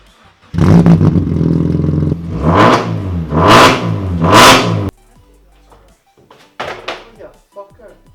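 A 115 brake horsepower classic car engine revs up loudly in several rising bursts, then drops away to quiet mechanical clicks and a final short rev.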